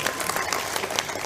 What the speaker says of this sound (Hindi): ताली बजाओ इस पे।